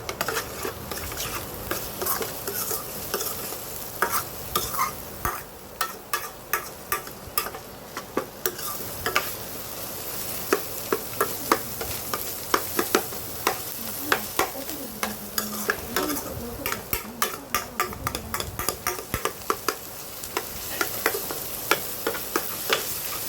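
Chopped onions sizzling and frying in a pan while being stirred toward brown, with a steady hiss under frequent sharp scraping and clicking strokes of the utensil, close and fairly loud, no talk.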